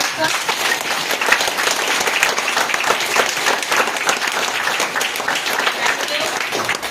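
A meeting audience claps together in sustained, even applause, with many hands beating at a steady pace and some voices audible over it.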